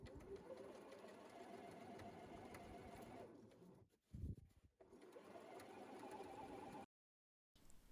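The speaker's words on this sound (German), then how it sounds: "Dann wird das knapp an der Kante aufeinander genäht." A sewing machine runs steadily, stitching the layers of a yoga bag together close to the edge, pausing briefly mid-seam before resuming, then cutting off abruptly near the end.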